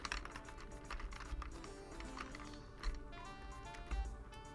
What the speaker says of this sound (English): Typing with my tits.